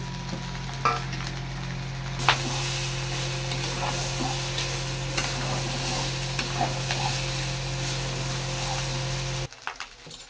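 Fish heads frying in a hot pan with rice for a Bengali muri ghonto, a continuous sizzle with scattered scraping and stirring knocks, close, ending abruptly with a brief quiet.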